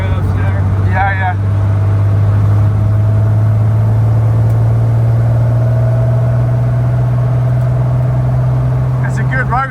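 A road-legal Porsche 917 Le Mans race car is driven on a public road, giving a loud, close engine drone with a strong steady tone throughout. Brief voices are heard at the start and end.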